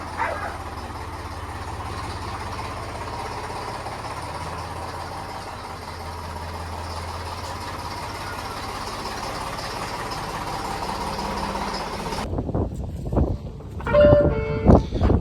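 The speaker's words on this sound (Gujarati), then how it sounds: "ટ્રેક્ટર બહાર કાઢે છે" A tractor engine idles with a steady low rumble for a long stretch, then the sound shifts to nearby clunks and knocks.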